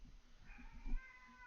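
A house cat gives a brief, faint meow, a single drawn-out call over a low background hum.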